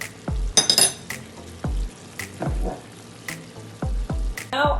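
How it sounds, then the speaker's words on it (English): Oxtail sizzles and fries in a hot pot as cold water goes in, with steady crackling, repeated bursts of hissing spatter and occasional clinks of a utensil against the pot, loud and close with no talking. "it's time to add half a cup of cold water to your oxtail"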